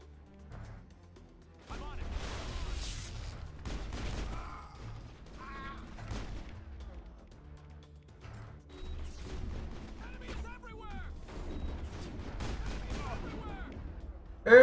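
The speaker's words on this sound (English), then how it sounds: "Who keeps shooting me to death?" Gunfire aimed at the player in the video game Mass Effect: scattered, irregular bursts of shots and impacts over about fifteen seconds, mixed with game effects and a talking voice.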